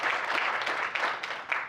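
Brief, dense burst of audience applause at a community awards event, steady and fairly close throughout.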